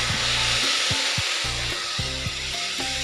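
Neer dosa batter sizzles steadily on a hot griddle pan for a Karnataka coastal recipe, with a continuous loud crackle and a few short pulsing bursts, no voices.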